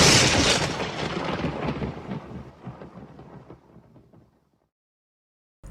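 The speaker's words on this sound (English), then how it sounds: "happily for Pacha and Kuzco, a bolt of lightning did." A lightning bolt's thunder cracks loudly and then rolls and rumbles, fading away over several seconds into silence, with a faint sound returning at the very end.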